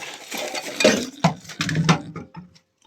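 An old hand-cranked kitchen mixer is worked by hand, producing irregular metallic clinks, rattles and clatters in quick bursts that fade out at the end.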